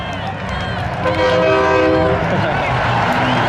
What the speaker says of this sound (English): He may have lost, but he just stole the show with the air horn